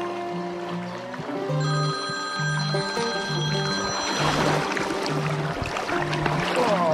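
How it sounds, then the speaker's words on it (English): A mobile phone rings outdoors near water during a fishing outing, its repeating electronic melody pulsing in a steady rhythm with bright tones, fairly close and clear over faint background sound. "Put him back and I'll answer my phone."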